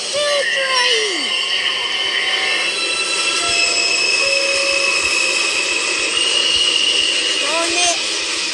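A subway train pulls into a station on a 2/3 line platform, with loud continuous rumbling, high squealing wheels and gliding brake tones throughout.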